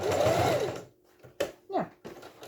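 A sewing machine stitches a Y-seam on tumbling-block patchwork, one short burst of close whirring followed by a pause, then a few brief clicks and bumps as the work is handled.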